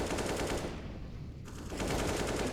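Pistol gunfire in a competitive esports video game match, a dense, continuous rattle of rapid shots lasting a couple of seconds, briefly thinning in the middle before picking back up loudly.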